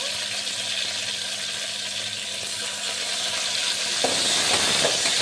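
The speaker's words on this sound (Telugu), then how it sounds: "టమాటో వేసుకొని బాగా కలిపేసుకోవాలి" Tomatoes sizzle in hot oil with mustard seeds and browned onions inside a pressure cooker for dondakaya curry, a steady close frying hiss with a louder scrape of stirring near the end.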